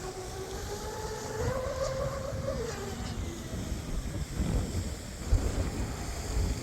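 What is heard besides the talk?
wind blowing around RC boat on water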